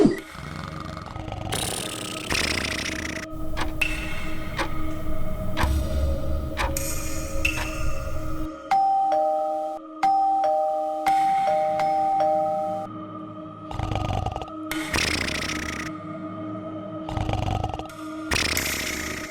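Repeated electronic doorbell chimes ring out over a synthetic Minecraft soundscape, with bursts of clicking and a short melodic tone sequence midway.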